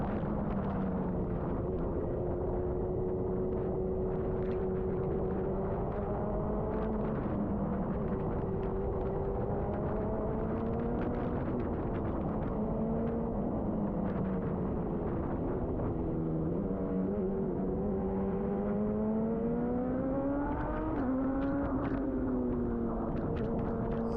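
A Radical race car accelerates hard on the track at Sonoma, its engine note climbing and dropping through gear changes in a continuous loud drone, heard from onboard.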